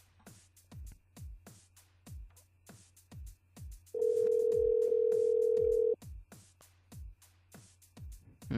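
A telephone line rings unanswered during a live FM radio call-in show, a steady repeating ring pattern with a long continuous tone in the middle, all in a quiet room.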